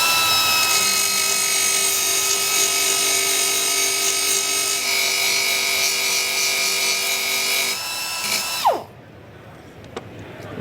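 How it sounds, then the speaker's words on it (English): A power sander whines steadily while smoothing spot welds on a car body panel during collision repair, loud and continuous for about eight seconds before spinning down and stopping, followed by faint quiet handling noises. "we're going to grab our sander and try and smooth this area out"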